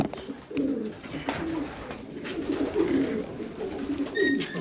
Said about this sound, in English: But this particular pigeon.